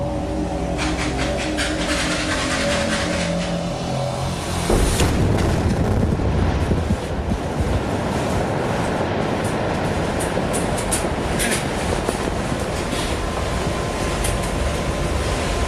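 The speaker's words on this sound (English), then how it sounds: "That blast fractured 100 tons of rock." A powerful explosive blast deep in a gold mine erupts as a sudden heavy boom and then settles into a long, loud, sustained rumble of fracturing rock and roaring air that fills the space for over ten seconds, with no voices.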